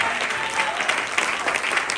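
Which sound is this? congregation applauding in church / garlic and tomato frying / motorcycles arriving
congregation applauding in church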